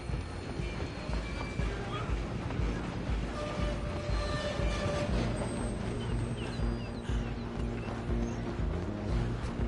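A train rumbles along in a PS4 video game, a steady low clatter and mechanical drone running continuously with faint tonal whines layered over it and game voices talking underneath.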